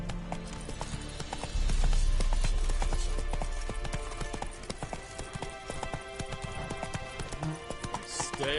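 Roach, the horse in the video game The Witcher 3, gallops with quick, rhythmic clip-clop hoofbeats that start heavy and close, then continue in a lighter, steady pattern.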